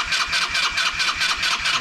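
A small two-stroke 100 cc Adly scooter engine starts up and runs with a rapid, steady buzzing pulse, close and fairly loud, with no voices.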